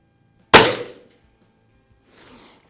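Norica Dream Hunter air rifle fired once at an outdoor range with wadcutter pellets, one sharp crack that decays quickly, followed by a faint later thud, with no talking.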